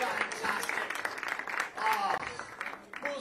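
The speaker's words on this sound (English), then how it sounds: "Round of applause for them." A church Christmas worship audience breaks into applause, a dense wash of clapping that carries on steadily while a voice talks over it.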